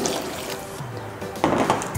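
Water splashes into a pot of rice being rinsed before cooking, a brief pouring swish that strengthens sharply near the end, close by with a quiet room tone underneath.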